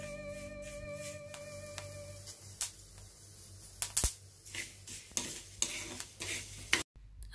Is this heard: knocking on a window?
no